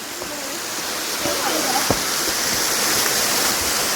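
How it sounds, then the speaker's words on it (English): Big waterfall on a hike at Hanging Rock State Park, a steady broad rushing roar filling the whole stretch, with faint voices and brief calls from people nearby. "That is a big and pretty waterfall."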